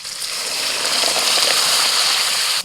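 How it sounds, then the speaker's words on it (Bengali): Boiled lentils (dal) poured into a pan of fried green tomatoes, giving a steady wet gushing splash that runs continuously for a couple of seconds before stopping abruptly. "এবার সিদ্ধ করা ডালটা দিয়ে দিচ্ছি।"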